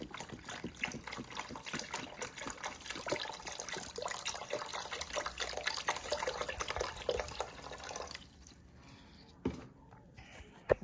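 Chicken stock pours steadily and continuously for several seconds, splashing into a pot of roux up close, then tapers off to a few faint drips and clinks.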